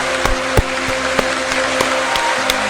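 A person claps their hands about eight times in a loose, uneven rhythm. Each clap is sharp and close, over steady background music from the Umineko visual novel.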